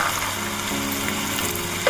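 Steady crackling sizzle of beans frying in hot oil, continuous and close, with no talking.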